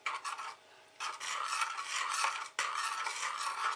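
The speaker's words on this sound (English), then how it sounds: "And I just stirred in." A spoon stirs a thick mixture in a mug, giving close, steady scraping and rasping strokes in three long passes separated by brief pauses, with no talk.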